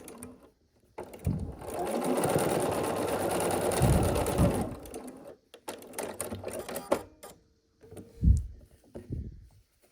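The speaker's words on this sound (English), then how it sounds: "we'll sew these 2 pieces together to complete the pinwheel" A sewing machine stitches quilt block pieces for a pinwheel in one steady, rapid run of several seconds, then stops. Soft handling noises and brief rustles follow.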